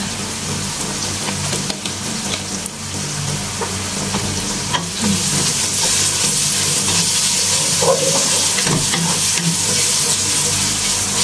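Onions for chicken biryani sizzle loudly and continuously in hot oil, close by. Scraping stirs come through now and then, and the hiss swells a little toward the end.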